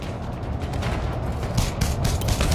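Pistol gunfire in the video game Elite Dangerous: Odyssey, a loud, dense stretch of rapid shots layered over a steady game rumble, close and continuous for a couple of seconds.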